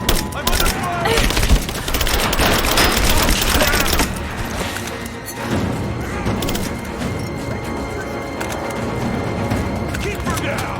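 A chaotic gunfire attack in Rise of the Tomb Raider: dense volleys of shots crackle loudly at first, then continue less intensely while voices shout over the fighting.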